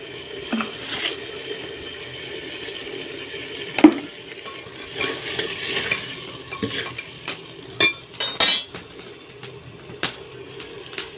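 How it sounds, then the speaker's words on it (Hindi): Potatoes stir-fried in a pan in a home kitchen, a steady low sizzle broken by scraping spatula strokes and clattering pan knocks that grow busier toward the end, close by and with no talk. "और डालती हूँ आलू को। और इसको थोड़ी देर भून लेती हूँ।"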